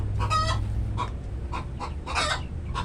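Backyard broiler chickens about 45 days old and around 3 kilos cluck close by in a series of short bursts over a low steady background hum.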